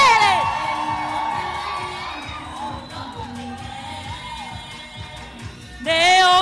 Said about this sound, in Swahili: wapi shangwe na vigelegele